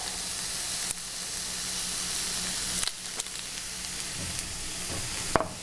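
Red onion sautéing in a pan gives a steady close sizzle and hiss, broken by a few short stirring clatters and scrapes. Nobody speaks.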